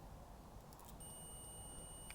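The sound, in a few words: continuity tester beep on car wiring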